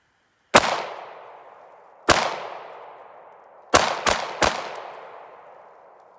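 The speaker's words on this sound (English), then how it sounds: "This is the Taurus Ultralight. And I'll just fire a couple rounds so you can see what it's like." A Taurus Ultralight revolver is fired outdoors, five sharp loud shots: two spaced singles, then three in quick succession, each ringing out with a decaying echo.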